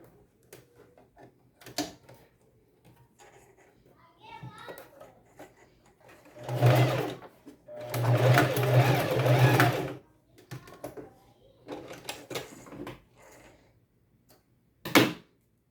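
A sewing machine stitching a seam runs in two short loud bursts of rapid mechanical whirring, with quieter handling clicks and a voice speaking between them.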